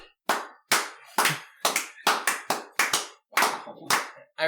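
Loud, close clapping in about a dozen sharp, separate bursts, each a crisp slap that trails off briefly, spaced unevenly with short gaps and no talking.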